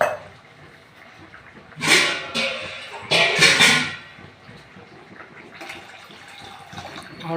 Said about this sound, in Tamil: இனிமேல் கொஞ்சம் தண்ணி சேர்க்கணும்.